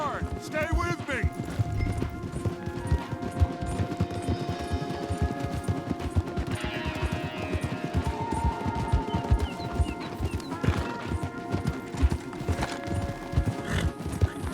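Horses gallop hard in Red Dead Redemption 2, with dense continuous hoofbeats close by and an occasional neigh, plus distant gunfire and voices in the mix.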